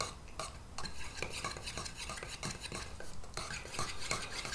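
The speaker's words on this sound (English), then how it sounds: "All right, so last one is the General Finishes gel. Just gonna stir it up a little bit here." A stick stirs General Finishes gel stain inside a metal can, scraping and tapping against the sides in quick, steady strokes, close up with no talking.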